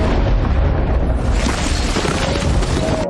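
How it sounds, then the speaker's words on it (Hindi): A powerful explosion blasts through a cemetery, its deep, roaring boom filling the space loudly and holding steady for a few seconds without fading. "अगले ही पल जोरदार धमाका हुआ और पूरा कब्रिस्तान"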